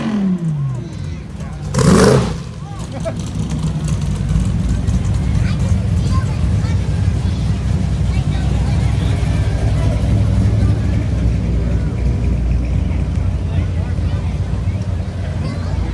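A car engine at an outdoor show rumbles loudly in a sustained, steady drone after a brief gusty burst, with wind buffeting the microphone and faint voices around.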